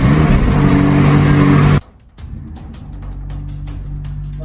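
A car engine roars loudly up close, then cuts off abruptly, followed by a quieter, steady engine rumble as the car pulls away, with no voices.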